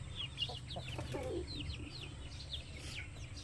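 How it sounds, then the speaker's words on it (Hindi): A hen clucks and murmurs in short soft bursts close by, with higher chirps from other birds scattered around in a quiet outdoor yard. "तो ये बड़ी अच्छी मुर्गी है।"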